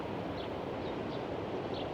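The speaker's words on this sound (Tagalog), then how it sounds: "Yung tunog ng alon." A soft, steady wash of sea waves at Old Jaffa, Israel, a continuous rushing hiss heard from a distance with no distinct breaks and no voices.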